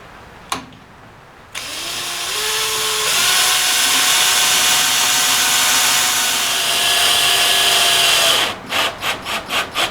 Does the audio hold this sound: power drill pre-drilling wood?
yes